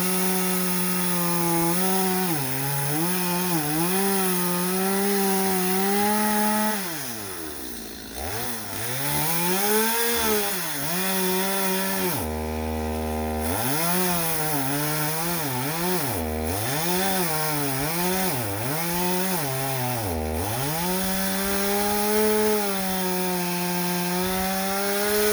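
A Stihl MS250 chainsaw cuts through wood for about twenty-five seconds, its loud, close engine rising and falling as the chain bites and eases, with a brief drop to idle partway through before revving back into the cut.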